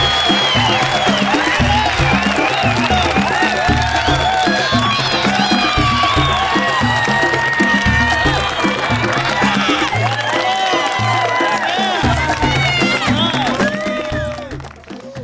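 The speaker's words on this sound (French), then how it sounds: "Et on applaudit la République démocratique du Congo" An audience at a certificate ceremony applauds and cheers for a national delegation, dense clapping mixed with shouts and whoops over rhythmic music, sustained at full loudness before trailing off at the end.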